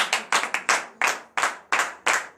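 Congregation clapping together during a Thursday morning prayer service in Benin, about eight loud sharp bursts of applause in a steady, somewhat uneven rhythm, with no voices over it.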